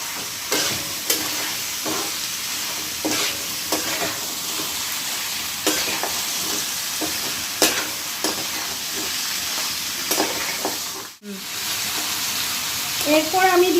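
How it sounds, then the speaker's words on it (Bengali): Mutton is stirred and fried in hot oil in a pan, giving a steady, close sizzle broken by repeated scraping strokes of the spoon over about fourteen seconds, with a short pause near the end. "এবারে মাটনটাকে একটু আমি তেলেতে একটু নেড়ে নেব।"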